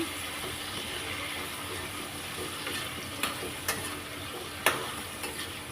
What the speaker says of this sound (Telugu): సాల్ట్ వేసుకొని ఫ్రై చేసుకుందాం